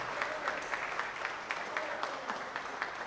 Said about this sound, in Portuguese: Se for o Senhor, pode aplaudir ao Senhor.